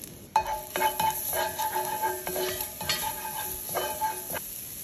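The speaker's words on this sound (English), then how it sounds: "I'm gonna add in 1 tablespoon of olive oil here. All right, we're gonna put in our garlic first." Garlic sizzling in a tablespoon of olive oil in a soup pot, a soft continuous crackle under repeated scraping stirs of a utensil against the metal, close by.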